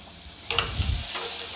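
Brinjal and peas for bharta fry in a pan while being stirred, a close sizzle with a sudden louder burst of hissing and scraping halfway through.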